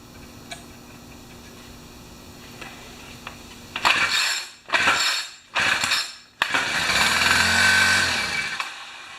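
A four-stroke Yard Machine string trimmer engine that has trouble running sputters in a few loud, close revving bursts, cutting out between them, then catches and holds a steady buzzing run.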